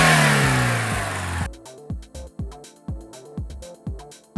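A 2024 Ram Rampage Rebel pickup with the gasoline 2.0 Hurricane four-cylinder engine revs hard in a sustained climb, then gives a series of six or seven sharp, evenly spaced blips, loud and close with no talk.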